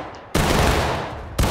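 Massed musket volley fired on command in a Civil War battle video game, a loud sudden crash of gunfire that rolls on for about a second, followed by a second burst starting at the end.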